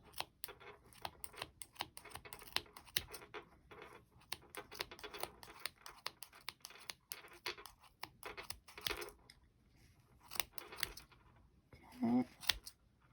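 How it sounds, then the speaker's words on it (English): Scissors snipping through yarn loops while making a crochet pom-pom for a tiny dog or kitten hat, a run of quick, close, crisp cuts in an irregular rhythm, with a brief pause near the end. "And we're still cutting loops."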